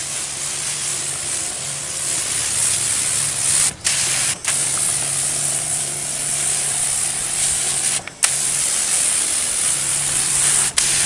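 Liquid organic booster fertilizer sprayed onto flowering tomato plants gives a steady, close hiss that runs almost unbroken, with a few brief pauses where the sprayer stops.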